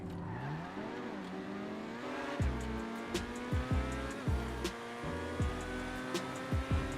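The Italy GTO sports car in the video game GTA 5 drives along with a steady engine note that swoops up and down through the revs, several sharp tire squeals and shifts, and the car is heard fairly near throughout.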